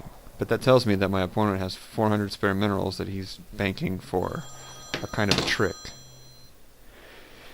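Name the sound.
telephone ringing in the room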